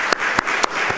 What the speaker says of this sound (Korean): 우리 박수 한번 해드리죠.